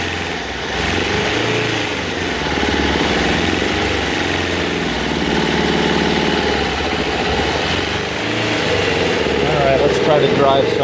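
A wood gas powered vehicle engine runs steadily and close throughout, rising and falling slightly on the throttle with a rough, droning tone that never drops out.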